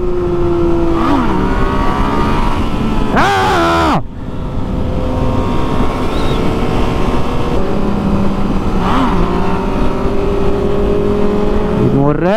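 Motorcycle engines, a Kawasaki ZX6R and a Yamaha MT09, rev hard during wheelie attempts, rising and falling in pitch with a steep surge near the start, loud and continuous with voices talking over it.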